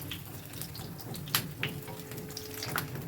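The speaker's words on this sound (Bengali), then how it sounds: "একটু হাই ফ্লেমে ভাজতে হবে, তাই অনবরত ওলট পালট করে দিতে হবে যাতে পুড়ে না যায়।" Semolina snack frying in oil over a high flame gives a steady soft sizzle and hiss, with a few brief clinks and splashes of turning in the pan.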